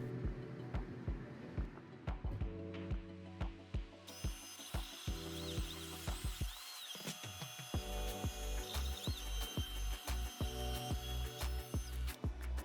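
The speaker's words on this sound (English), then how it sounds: "cut on the acrylic for the circle radius jig" An OmTech Polar 55W CO2 laser cutter cuts acrylic at 1000 millimeters per minute, giving a steady mechanical drone under rapid, evenly spaced ticking and clicking motor pulses that run throughout, close and moderately loud.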